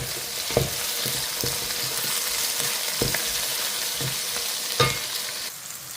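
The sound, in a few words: sautéing chopped brinjal in a pan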